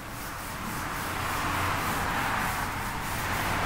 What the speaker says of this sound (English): So let's rub off the board.